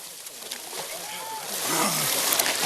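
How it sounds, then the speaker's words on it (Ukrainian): Splashing and sloshing of water as people plunge into a hole cut in river ice during a winter Epiphany dip, a loud wet churn building over a background of outdoor crowd voices. "в ополонку з головою кинулися і його соратники"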